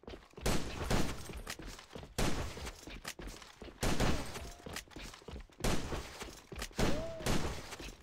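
Rapid bursts of gunfire from a gun in the first-person shooter AVA, fired while running, come as four or five loud clusters of quick shots with short gaps between them.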